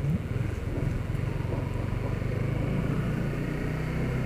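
A 2021 Honda CBR150R motorcycle cruises at low revs around 3000–4000 RPM, giving a steady, unstrained engine drone with a low rumble that holds close and even throughout, alone with no talk.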